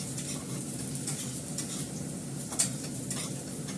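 Potatoes fry in plenty of oil in a pan, producing a steady close sizzle broken by soft scraping and an occasional clink as they are stirred, with no talk.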